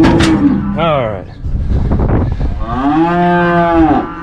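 Cows moo loudly near calves loaded in a trailer on a farm, two long drawn-out bellowing calls close by, the second one sustained, with a shorter grunt between them.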